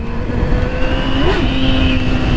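Yamaha XJ6 motorcycle pulling hard under acceleration, a loud, sustained engine drone with a brief pitch bump midway, heard close with heavy wind noise.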